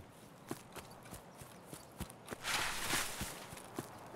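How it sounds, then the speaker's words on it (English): Footsteps on concrete in Escape from Tarkov, a string of sharp, fairly close impacts at an uneven walking pace, with a brief wash of broadband noise midway and no talking. "I hear footsteps on concrete."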